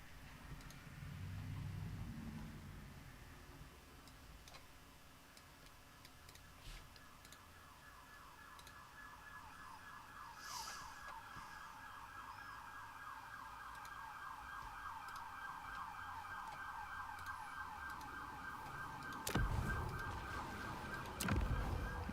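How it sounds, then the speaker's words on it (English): Emergency vehicle sirens wail steadily in the background outside during a late-night gaming stream, a continuous rising and falling tone that stays faint and distant over a low hum, with no talking. "The blessed sirens in the background."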